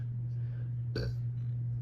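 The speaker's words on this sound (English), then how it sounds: "Sorry about the burp in there." A single short burp cuts through a steady low electrical hum, one brief throaty burst near the middle of an otherwise quiet stretch.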